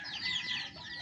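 Chickens clucking near their coop in a backyard where moringa branches are planted as a natural fence; a dense, steady flock chorus fills the short moment, close and fairly loud, with no talking.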